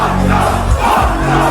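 A dense festival crowd roars at First Class Fest, a loud, close wash of cheering voices over booming low-end, brief and continuous.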